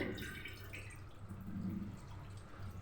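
Soaked lentils are rinsed in water in a kitchen, producing faint trickling and dripping sounds at low volume with no voices.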